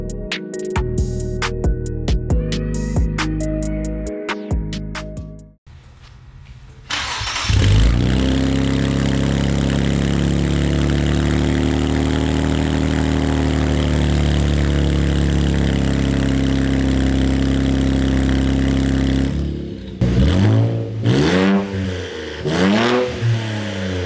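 A 2023 Nissan Z fitted with MAPerformance GESi downpipes and catback exhaust cranks, fires and settles into a loud, raspy idle, then rips through sharp rev blips near the end; close and loud with no talk.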